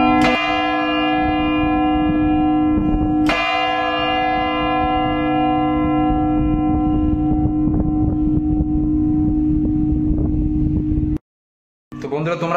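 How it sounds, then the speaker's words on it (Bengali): A large wind-up clock bell at the Hooghly Imambara strikes twice, about three seconds apart, and each loud, close strike rings out in a long humming tone until the sound cuts off abruptly. "এখানে অ্যালার্ম বাজছে, ঘন্টাটা যে ঘন্টা দম দেওয়া ঘন্টা সেটা বাজছে"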